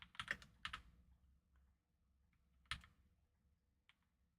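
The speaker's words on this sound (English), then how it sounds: "Listen to that keyboard." Computer keyboard typing, a few sharp key clicks in small bursts separated by quiet gaps, fairly faint and close, alone in a quiet room.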